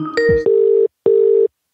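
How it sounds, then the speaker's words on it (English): Phone ringtone on an incoming call: two sustained electronic tones, each just under half a second and separated by a short gap, loud and close, following a brief burst of other tones at the start. "It's an empathetic ringtone."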